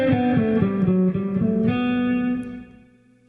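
A distorted electric guitar picks a brisk 16th-note exercise pattern, stepping through several notes before holding a ringing sustained note that dies away, close and without any voices.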